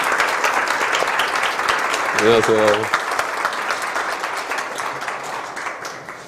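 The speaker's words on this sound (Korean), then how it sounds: "큰 박수 부탁드립니다." Audience applause fills a Korean corporate recruitment briefing as a company president takes the stage, steady dense clapping that slowly tapers, with a man briefly greeting the room over it midway.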